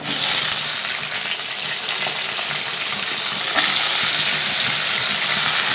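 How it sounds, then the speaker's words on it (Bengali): Bitter gourd sizzles as it fries in hot oil tempered with bay leaf and dried red chilli, a loud, continuous crackling hiss with no voices. "উচ্ছেটা দিয়ে নাড়াই"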